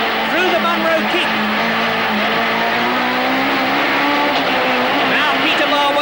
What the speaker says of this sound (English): Now Peter Marwell Hill, tremendously fast this, up to Halford's corner